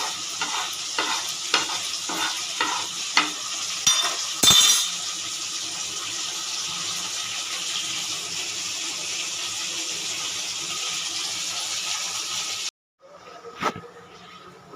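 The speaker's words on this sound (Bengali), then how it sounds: "হয়ে গেছে আমার এটা ভাজা, হালকা একটু নেড়ে চেড়ে নিলাম।" Roasting whole spices stirred in a pan: a steady sizzle with repeated scraping strokes in a quick rhythm near the start, then continuous frying hiss, a brief break near the end and a short final scrape.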